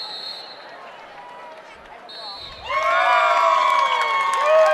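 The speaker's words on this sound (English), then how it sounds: "You can hear from behind us the Baca County contingent here. There's cheering" At a high school state wrestling championship, a crowd in the gym breaks from scattered shouts into loud cheering and whooping from a supporting contingent. Nearby voices talk beneath it.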